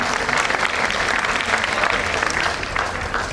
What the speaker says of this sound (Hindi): इनके लिए बहुत बहुत तालियां आप बजाएं।